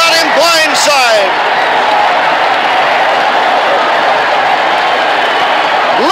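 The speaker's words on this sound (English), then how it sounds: "Listen to this crowd." Stadium crowd roaring at a 1969 New York Jets football championship game against the Raiders, a loud, steady wall of cheering, with brief voices early and again at the very end.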